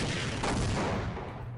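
Enemy gunfire in the Half-Life video game, a dense, loud wash of shots and booming impacts filling a short stretch with little pause.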